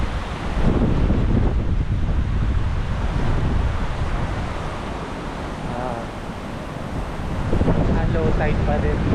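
Waves break and wash along the Boracay beachfront as wind buffets the microphone, a loud, continuous roar with brief voices in the background.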